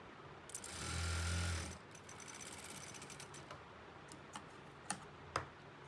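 A sewing machine stitches a narrow folded fabric strip for a suit in one short, steady whirring run, followed by quiet clicks and ticks as the work is handled.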